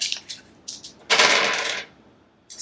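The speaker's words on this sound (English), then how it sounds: "So I'm just going to roll some random dice and see what number we get." Several dice are dropped for a reading and rattle together with a few light clicks, then a bright clattering tumble across a hard surface lasting under a second, close and alone.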